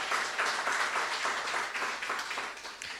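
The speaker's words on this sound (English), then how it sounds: "I think we can give her another round of applause" A round of applause fills the room at an awards-style company celebration day, with steady dense clapping from a gathered audience that holds fairly constant before easing slightly at the end.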